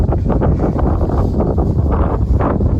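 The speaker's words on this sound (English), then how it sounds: "it's windy today." Strong gusty wind buffets the microphone with a continuous low roar and no other sounds, at Wilson's Creek National Battlefield.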